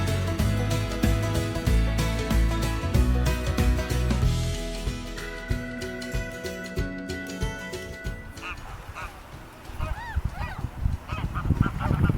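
A flock of ducks quacks and honks loudly and insistently outdoors, many birds calling over one another, with someone talking over and between the calls.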